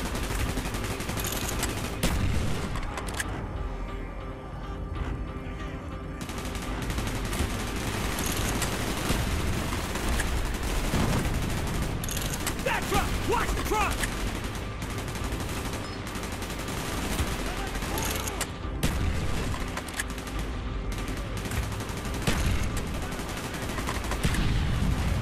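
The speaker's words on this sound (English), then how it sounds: "Gunfire's drawing attention." Sustained bursts of automatic gunfire and scattered shots crackle continuously in the video game Call of Duty: Black Ops, with occasional heavier booms amid a dense, chaotic battle soundscape.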